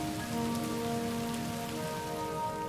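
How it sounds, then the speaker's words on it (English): Steady rain falling onto the surface of the early Earth, a dense, even hiss of drops that keeps going without a break. No voices. "water started forming clouds, which finally rained down onto the surface of Earth"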